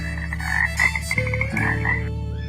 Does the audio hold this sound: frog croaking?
yes